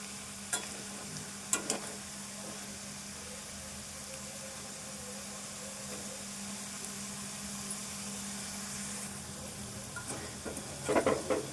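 Potato pieces frying in a pan for a homestyle aloo fry, a steady broadband sizzle with a few sharp clinks of stirring near the start and a burst of scraping at the end.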